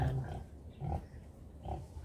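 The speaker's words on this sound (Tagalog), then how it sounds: "So ito yung baboy natin." A mestiza native pig on a farm, giving low grunts in three short bursts spaced about a second apart, close and moderately quiet with no talk.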